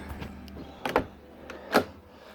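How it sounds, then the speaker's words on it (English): The rear door of a 1994 Range Rover in Aegean Blue is opened with a few mechanical clicks and clunks, a sharp latch pop near the middle and a louder clunk toward the end, nearby and quiet. "if I open the back door now"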